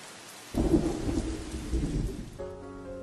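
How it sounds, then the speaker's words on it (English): Rain falls with a deep roll of thunder: a soft hiss of rainfall, then a sudden heavy rumble swells in and rolls on, ending in a steady hum beneath the rain. "It rained today."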